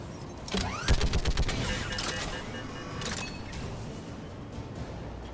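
Gunfire cracks out in Mass Effect 3, a quick cluster of sharp shots followed by a few more scattered reports over a low background of combat noise.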